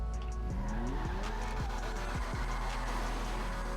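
Annis Euros X32 sports car in GTA Online at full throttle, engine droning steadily and loud while tires squeal and skid repeatedly through sliding turns, with no talk over it.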